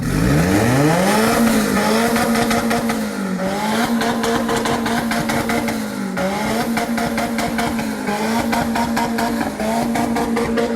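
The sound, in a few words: turbo Honda Civic engine bouncing off rev limiter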